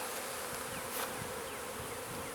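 Honey bees buzzing densely around an opened hive, a continuous close swarm drone with individual bees passing near.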